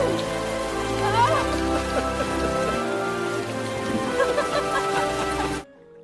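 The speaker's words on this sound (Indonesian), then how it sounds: "Sampai pada akhirnya hujan pun turun" Rain falling in a romantic drama film, a steady wash of rainfall layered under music for about five and a half seconds before cutting to near silence.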